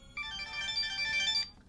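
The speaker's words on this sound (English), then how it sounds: "Sorry, we're getting phone calls." A phone rings with an incoming call, a single electronic ringtone burst of bright warbling tones lasting just over a second, fairly quiet over a low background hum.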